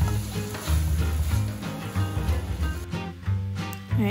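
Carbonara mushroom sauce stirred into spaghetti in a hot pan, giving a close, continuous sizzle and frying crackle with soft scraping as it is mixed.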